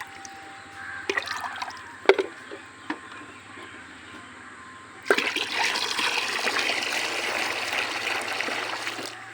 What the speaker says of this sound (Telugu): ఇందులో వాటర్ పోసి ఆయిల్ వేస్తాను